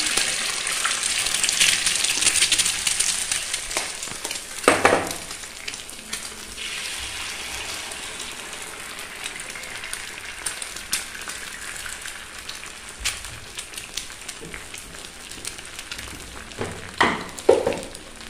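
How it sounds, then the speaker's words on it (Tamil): Two eggs cracked onto a hot griddle for a chapati egg roll, a steady soft sizzle and crackle with a few brief louder pops and spatters near the start and end, no talking. "சப்பாத்தி எக் ரோலுக்கு இதில் நம்ம கல்லுலேயே 2 முட்டையை உடைச்சி வச்சுக்கணும்."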